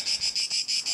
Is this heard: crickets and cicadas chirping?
yes